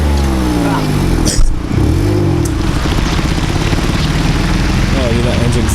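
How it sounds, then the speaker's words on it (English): A rough, unhealthy-sounding car engine at an outdoor car meet, loud and close, idling and revving with an uneven, labored rumble, with a brief sharp pop partway through and people talking over it. "that engine's not sound healthy"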